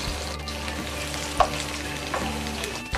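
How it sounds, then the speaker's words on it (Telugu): Ginger garlic paste fries in oil for a prawn pickle, giving a steady close sizzle with faint stirring scrapes and a couple of brief utensil knocks, and no talking throughout. "ఇది కూడా మంచిగా గోల్డ్ కలర్లో వచ్చేలాగా దీన్ని ఈ నూనెలో వేయించాలి"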